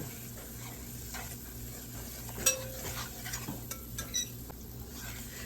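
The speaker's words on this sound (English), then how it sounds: "Continue to stir until you get to your desired color for your gravy." A spoon stirs flour cooking in a pan for gravy, giving soft scraping and a faint sizzle, with a few light clinks against the pan, quiet and close.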